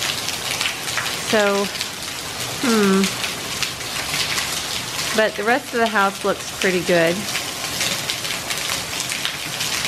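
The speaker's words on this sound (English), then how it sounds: "but lots of rain." Heavy rain falls steadily on a house as a hiss that runs the whole way through, with a voice talking over it.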